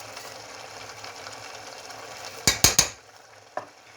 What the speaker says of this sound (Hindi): अब मैं इसको भूनती हूँ